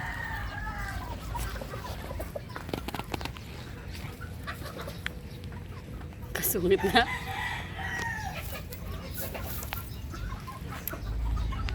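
Bulik hens and stags cluck in the background of an outdoor yard, with a rooster's crow rising briefly midway, while a person speaks a few words nearby.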